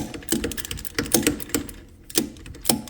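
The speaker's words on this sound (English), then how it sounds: "Alright, so that 10 millimeter bolt, instead of using a wrench, I got the ratchet" Ratchet with an extension turning a 10 millimeter bolt on a 2022 Can-Am Renegade Outlander 850, a series of sharp, irregular clicks in short bursts, close and clear with no talk.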